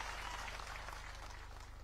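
A crowd claps together at an open-air political rally in Indapur, a dense, even wash of applause that holds steady for a couple of seconds, slightly distant and without speech.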